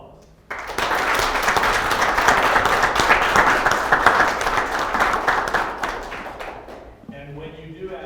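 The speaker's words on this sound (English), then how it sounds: "let us give a round of applause." A lecture audience at a foundation speaker series bursts into applause, with dense, sustained clapping for about six seconds before it thins out and a voice begins speaking.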